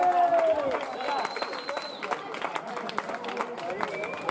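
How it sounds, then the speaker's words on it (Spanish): Scattered, uneven handclaps ring out for the champions of a frontón tournament, mixed with crowd chatter and an announcer's voice. Several sharp claps stand out against the babble of the gathering. "Un fuerte aplauso para los campeones"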